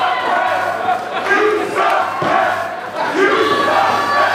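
A pro wrestling crowd at a Susumu Yokosuka versus Trexxus match roars and shouts at the referee in a loud, continuous swell, with a commentator's voice faintly underneath.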